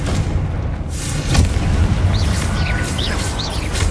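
A Confringo spell explosion in Hogwarts Legacy on PS5, a dull booming burst over steady low rumble, followed by faint chirping bird-like tones in the background.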